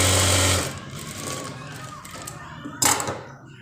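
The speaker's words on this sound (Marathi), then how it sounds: "आता आपण डबल टिप टाकून घेऊ." Sewing machine stitching a double hem on an old saree being made into an umbrella dress, a steady loud mechanical whir that stops, then a brief clack near the end.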